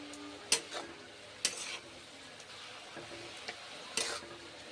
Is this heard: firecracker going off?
no